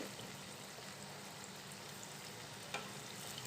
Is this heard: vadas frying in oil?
yes